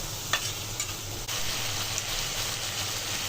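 Shrimp curry with taro stolons sizzles in a hot pan, a steady frying hiss with a few soft stirring scrapes and knocks near the start.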